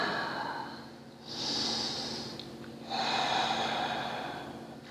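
Slow, deep breathing through the nose while a yoga pose is held, a steady close inhale and exhale with a soft airy hiss, alone with no talking.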